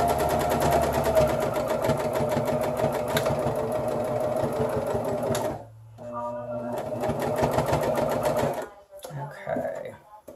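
A sewing machine stitches fabric for a DIY cloth maxi pad, a fast rapid needle clatter running close for several seconds, stopping briefly, then resuming in shorter bursts with pauses.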